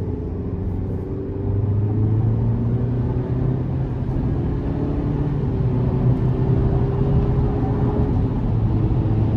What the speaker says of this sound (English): I'm gonna give it a little throttle here.